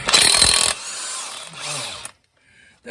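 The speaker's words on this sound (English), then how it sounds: "I'm going to leave my impact wrench on the 3 setting." An impact wrench on its third setting loosening a bolt on a 1999 Saturn SC1 1.9L engine, one loud close hammering burst, a shorter whirring follow-up, then quiet.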